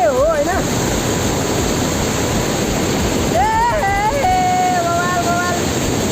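Heavy stream water at Sundarijal, Nepal, rushes in a loud, steady roar that fills the whole stretch, with a few brief whistling or chirping tones rising above it partway through.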